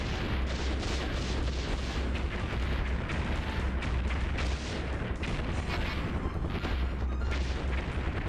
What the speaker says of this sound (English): We can shoot with the grenade launcher at least.